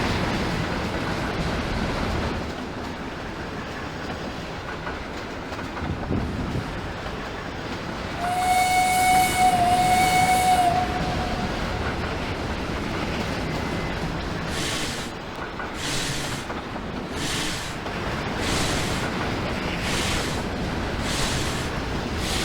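Train hauling a cut of wagons in the Trainz TRS19 simulator, led by a VR V Class locomotive, with a steady rolling rumble throughout and a whistle sounding briefly midway.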